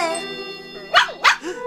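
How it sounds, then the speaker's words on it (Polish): A watchful dog in a Polish musical audio fairy tale of Peter Pan gives two sharp barks close by, over sustained background music. "To nasz pies okropnie czujny."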